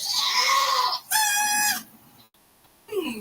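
Goats bleat at an animal sanctuary in a Toyota commercial, two loud wavering calls in quick succession, then a quieter pause and the start of another cry, with no talk over them.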